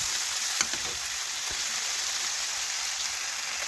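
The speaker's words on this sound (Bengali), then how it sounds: "এখন হলুদ গুঁড়ো একটু নাড়াচাড়া করে মশলার সাথে মিশিয়ে নিলাম" Spices sizzle steadily in hot oil as turmeric powder is stirred in for a soybean curry, a dense continuous frying hiss with a couple of faint spoon scrapes.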